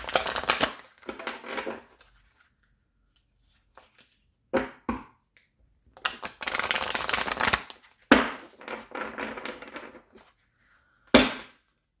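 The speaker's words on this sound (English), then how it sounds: "I'm still going to shuffle." Tarot cards being riffled and shuffled in several bursts, separated by pauses, with crisp rapid flutters close to the listener.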